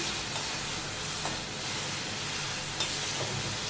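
Soft, steady sizzling of onions and ginger sautéing in a pan with faint scraping stirs now and then, quiet and close, no voices.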